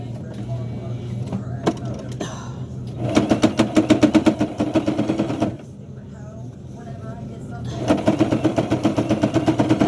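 A sewing machine hemming thick bassinet fabric runs in loud rapid bursts, each stitching run a dense mechanical rattle, with pauses between runs where a person speaks.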